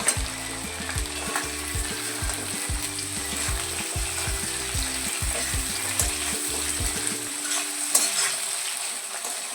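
Potatoes and eggplant fry in hot fish oil with mustard, garlic and green chilli, sizzling steadily while being stirred with repeated scraping strokes and occasional clinks, close and continuous.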